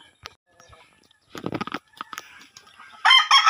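Chickens clucking and calling in short bursts, with a louder cluster of fowl noises near the end; fairly close, no talking.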